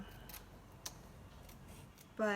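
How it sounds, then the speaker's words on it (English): Scissors snip paper for an acorn craft, a few quiet, scattered cuts close by with faint room noise between them. "sometimes it's a challenge for me to use scissors"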